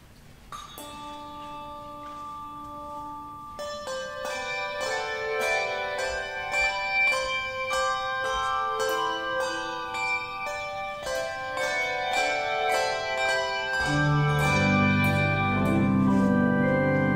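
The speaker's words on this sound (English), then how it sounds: "We open the concert with English Carol for Bells and" A church handbell choir plays a carol with organ accompaniment, ringing sustained bell tones in a melody that builds from sparse strikes to dense chords, with the organ joining more fully near the end, in a concert setting.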